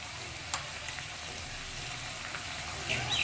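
Lentil paste goes into a pan of sizzling mixed vegetables with pumpkin shoots, giving a steady moderate frying hiss with a brief louder burst near the start and a rise toward the end.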